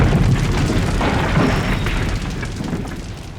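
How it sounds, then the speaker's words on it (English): A deep, rumbling explosion tears through a warship during a naval battle, a loud, sustained roar that holds steady and slowly fades over a few seconds, with no speech over it. "The explosions were so huge that they ripped the ship apart."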